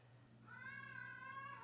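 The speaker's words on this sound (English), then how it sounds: "That's Starina the cat. She's expressing that she wants to hear some good music. She started singing" A house cat gives one drawn-out, tonal meow that rises and holds for about a second, fairly quiet and alone in a calm indoor room.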